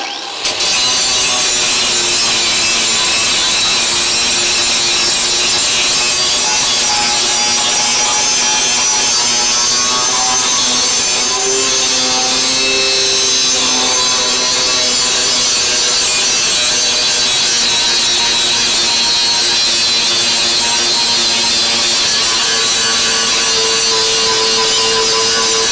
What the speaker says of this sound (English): Once I start getting these welds relatively flat, we'll switch back to the flap disc.